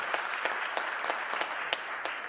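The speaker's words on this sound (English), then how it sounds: "So I want to give a big round of applause to all the NED DC members who actually helped" Audience applause at an alumni convention, a brief burst of steady, dense clapping from a roomful of people with no talk over it.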